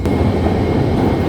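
A St. Petersburg subway train rumbles loudly and steadily through a metro station, a constant low roar of rolling wheels and cars with no voices on top.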